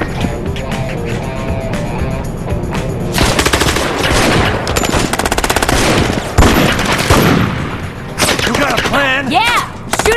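Loud machine-gun fire in a gangster video game set in Vegas, sustained rapid bursts with booming hits and clattering effects, continuing with brief gaps throughout.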